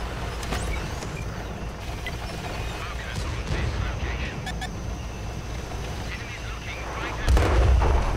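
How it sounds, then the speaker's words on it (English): Artillery fire rumbles through a tank video game in a dense, continuous roar of booms and engine noise, loud and steady, with a heavier blast near the end. "Artillery, it's on the A1 corner."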